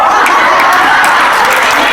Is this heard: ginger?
no